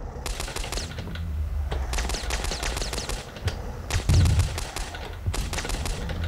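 Rapid Uzi bursts from the top-down zombie shooter Boxhead, dense automatic crackle in repeated strings broken by short pauses, with a heavier boom partway through.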